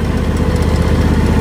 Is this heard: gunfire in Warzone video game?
no